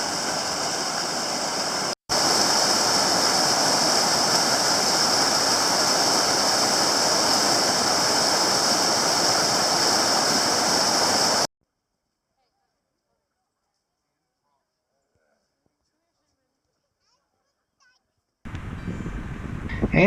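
Water pours steadily over the dam at Bennett Spring, a dense continuous rush heard close and loud for about eleven seconds, then the clip drops to near silence before a fainter return of the flow.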